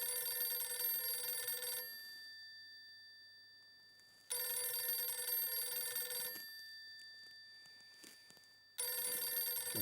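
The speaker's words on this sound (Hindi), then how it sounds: "मेहता साहब जेठा प्राणु फोन लगाओ" A telephone rings in three long bursts with short silent gaps between them, loud and close, with a steady electronic trill and no talking.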